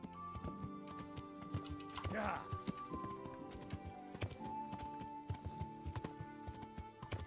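In Kingdom Come Deliverance, a horse's hooves clop in a steady rhythm with a brief whinny around the middle, over a sustained background tone, fairly close and clear.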